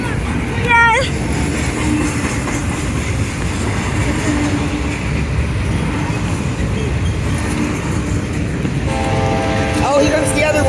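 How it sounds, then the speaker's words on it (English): A BNSF freight train with three locomotives and double-stacked containers rumbles past in a steady, loud wash of rail noise, with horn-like tones near the end and a voice talking over it. "Maggie, Only coal trains have engines at the end"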